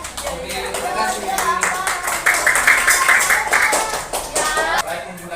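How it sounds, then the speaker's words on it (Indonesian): A classroom group claps for a presenting team during a teacher's coaching session, a dense patter of hand claps with children's voices and chatter mixed in throughout and tapering off near the end. "Ayo, tepuk tangan dulu"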